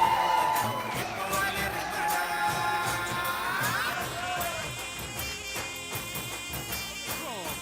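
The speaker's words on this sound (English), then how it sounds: "Once again, ladies and gentlemen, a big round of applause for the parents of the bride, Uma and Ala Sondram." A crowd cheers and whoops with scattered shouts over a busy, reverberant background, loud at first and easing slightly.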